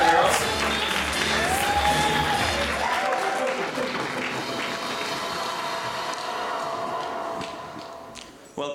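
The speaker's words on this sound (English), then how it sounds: "Applause for the girls." Audience applause at a political debate competition, a sustained wash of clapping from a crowd that carries on for several seconds with voices mixed in, fading slightly toward the end.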